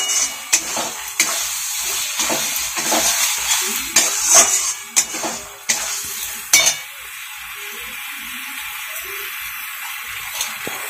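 Potatoes sautéed with spices in a pan for a dhaba-style egg curry, soft sizzling under repeated scraping stirs of a spatula against the pan, close and intermittent, quieting toward the end.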